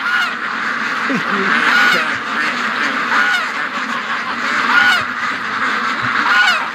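Ducks on a farm quacking repeatedly in a noisy flock, harsh calls overlapping near and far, with other birds and background clamor mixed in.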